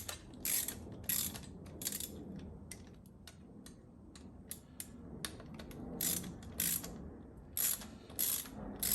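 A ratchet wrench clicks in quick bursts while driving bolts to fit a Cobra air intake onto a Yamaha Bolt motorcycle, the close, bright ticking recurring in short runs with brief pauses and no talk.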